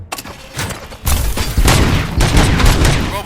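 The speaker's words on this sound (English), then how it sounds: "Gunshots? What's going on?" Robots open fire in RoboCop Rogue City, a loud burst of rapid gunshots and booming impacts that builds after a quiet start and keeps going without pause.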